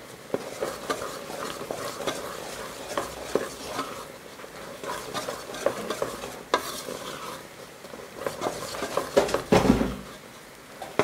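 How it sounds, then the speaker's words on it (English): Sugar-coated groundnuts are stirred in a pan, the spoon scraping and rattling the nuts in irregular bursts over a faint sizzle, close by and with no voices. "At this stage, you need to stir, or else they will stick."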